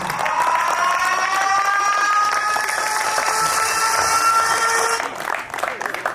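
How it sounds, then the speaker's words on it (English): Audience applause at an outdoor Irrecha community celebration in Edmonton, Canada, a steady clapping crowd with faint cheering and tonal sounds that fade out near the end. "Big applause to Edmonton Police Office."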